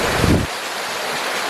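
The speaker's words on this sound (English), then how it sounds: "A lot of rain." Heavy rain pours down beside a small garden stream feeding a hydro intake, a dense, loud wash of water that holds steady, with a fuller rumble in the opening half second before settling into a constant hiss.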